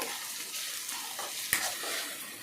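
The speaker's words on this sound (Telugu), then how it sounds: "అల్లం తెల్లగడ్డ పేస్టు బాగా వేగిందండి." Ginger garlic paste fries in a pan with okra pieces, a steady close sizzle with faint stirring scrapes and one brief clink partway through.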